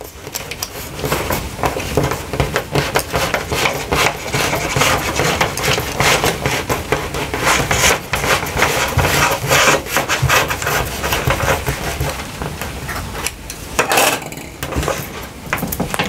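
Plastic outer jacket being stripped off a TV antenna coaxial cable, a steady run of close, loud scraping and rubbing with no talking over it.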